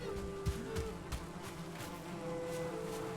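A steady, close buzzing of bees in the video game Valheim, a droning hum running throughout with a few soft thumps early on.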